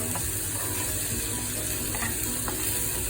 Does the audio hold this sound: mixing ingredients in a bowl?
yes